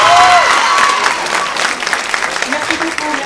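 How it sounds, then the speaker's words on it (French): An audience at the Harakat 2025 festival closing ceremony breaks into applause, dense at first and then thinning to scattered claps, while a voice speaks over it. "j'aimerais vraiment qu'on applaudisse Lina"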